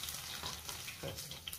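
Onion and tempering spices (mustard seeds, cumin, chana dal) frying and sizzling in hot oil for a goru chikkudu kaya fry, a steady close crackle with brief louder bursts and stirring, no talk.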